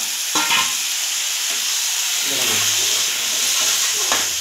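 Fish fat and cumin fry in hot oil, giving a loud, steady sizzle and hiss close by, with brief stirring clatter near the start and end.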